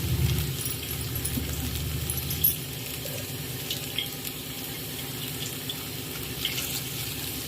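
Water pours steadily into a pan of cooking stuffed eggplant for several seconds, a broad rushing hiss with faint clinks, no talking.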